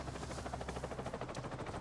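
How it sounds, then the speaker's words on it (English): Helicopter in the video game Avatar: Frontiers of Pandora, a steady rhythmic rotor chop holding at a constant level throughout, with dense mechanical noise and no voices. "A helicopter."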